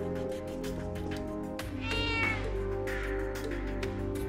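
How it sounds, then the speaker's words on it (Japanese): A cat meows in the video game Trails of Cold Steel III, a clear mid-clip meow rising over steady game music, with a second softer meow following. "哦，猫猫"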